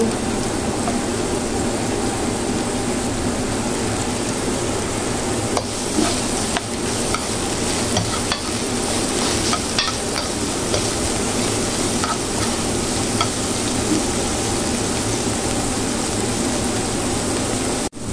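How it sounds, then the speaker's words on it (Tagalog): Garlic sizzles in hot oil in a pan while being stirred for ginisang monggo with eggplant, a dense, continuous crackling hiss with occasional scraping, steady and close throughout. "ilalagay na rin natin yung ating bawang"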